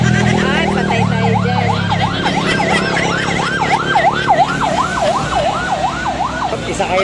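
An ambulance siren wails loud and near in a rapid, repeating rising-and-falling tone that continues steadily throughout, over low traffic rumble.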